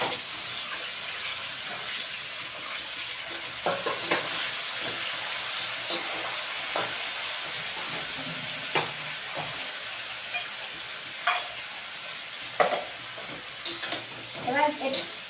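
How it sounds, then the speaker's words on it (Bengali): Ash gourd stalks frying in a pan, a soft steady sizzle with intermittent sharp clinks and scrapes of stirring, fairly faint and close. "এবার ডাটাটাকে, চাল কুমড়ার ডাটাটাকে কিছুক্ষণ ভেজে নিব, তারপরে মশলা দিব।"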